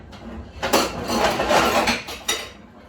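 Pots, pans and utensils clatter while grits and eggs cook for breakfast: a short flurry of metallic clinks and knocks, fairly close, with no talking.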